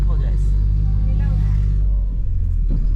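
A small truck drives over rough desert terrain in Talampaya National Park, Argentina, with a steady low engine rumble and jolting bumps throughout, and people talk over it.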